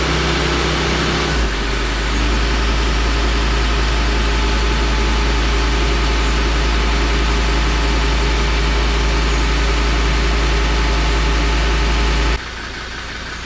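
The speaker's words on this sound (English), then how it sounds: "As the revs died down again." A car engine revs up under an OBD2 scanner's accelerator test, holding a loud, steady raised drone for about ten seconds before dropping back to idle near the end, with no talk.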